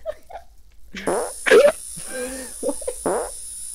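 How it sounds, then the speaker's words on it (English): A few short, buzzy fart-like bursts spaced irregularly, close and fairly loud, mixed with brief blurts of a voice and a high steady whine underneath. "Someone farted and gave him a seizure."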